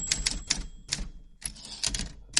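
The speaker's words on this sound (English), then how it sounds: "I'd love a typewriter sound right now to signpost the next story" A typewriter sound effect plays a quick run of crisp key strikes in uneven bursts, close and clear, with no talk.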